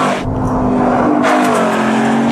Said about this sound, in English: the race-ready Boss 302, with a 5-litre V8 you can take to the racetrack